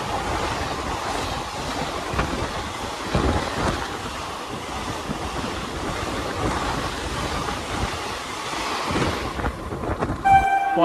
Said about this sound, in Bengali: ছেড়ে দিল আমাদের ট্রেনটি শ্যামনগর রেলওয়ে স্টেশন থেকে